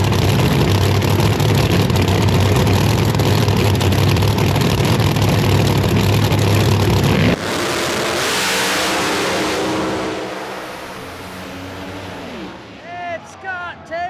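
A drag racing hot rod engine roars at full throttle down the strip during a race, loud and close, then drops off sharply and fades as it slows, with speech near the end.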